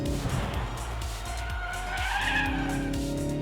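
A Ford Focus hot hatch engine revs hard on a race track with a raspy, rough exhaust note, loud and close, rising in pitch as it accelerates.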